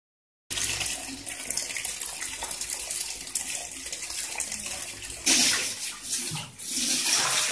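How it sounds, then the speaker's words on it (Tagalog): Lots of water pours into a tank to rinse it out, a loud close steady rush of splashing with a brief surge in the middle. "Buhusan na natin ito ng maraming tubig para malinisan."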